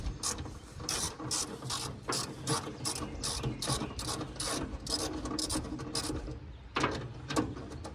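A hand ratchet clicks in quick rhythmic bursts while tightening bolts during a door installation on a Scamp camper, close and distinct with brief pauses between strokes.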